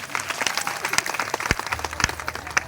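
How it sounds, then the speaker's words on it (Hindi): Audience at a Bhagwat Katha religious discourse clapping in a burst of dense, lively applause, fairly close and loud, with scattered sharp individual claps standing out throughout. "एक बार आप अपने लिए तालियां बजाइए,"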